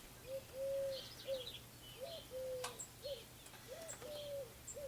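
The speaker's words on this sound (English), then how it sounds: "The owls are talking." Owls hoot outdoors in a series of soft, even coos spaced through the clip, moderately distant over a faint steady hum and a few sharp clicks.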